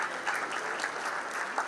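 Audience applause fills a hotel ballroom at a food awards night at The LaLiT in Mumbai, a steady dense patter of many hands clapping at moderate volume throughout, no voices rising above it.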